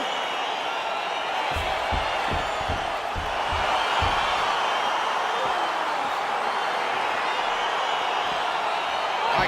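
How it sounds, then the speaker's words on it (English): Arena crowd in a UFC video game on PS5 at the start of a fight, a dense, continuous roar with scattered thumps underneath, steady and fairly loud. "crowd getting excited as this fight gets underway"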